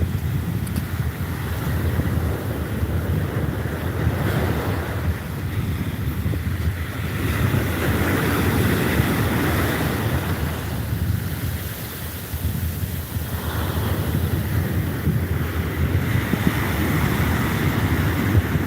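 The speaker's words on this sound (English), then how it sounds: "Hearing the waves come in and out, in and out." Continuous roar of surf on a Gulf coast shore, waves washing in and receding, steady and broad, mixed with gusty wind buffeting the microphone.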